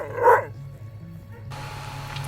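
Sled dogs at the start of the Yukon Quest sled dog race give a single sharp outdoor bark, then faint background murmur and crowd noise continue.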